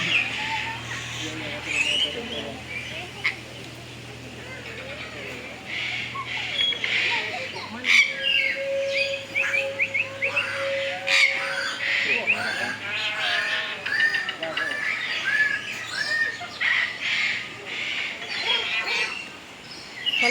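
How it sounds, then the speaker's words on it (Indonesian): Birds call repeatedly at a zoo bird show at Taman Safari Bogor, with bright chirps and whistles scattered through a busy outdoor scene, mixed with people talking nearby and a steady low hum. "Kalau burung setiap saat bunyi enggak?"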